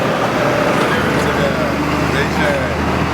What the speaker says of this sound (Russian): Машина.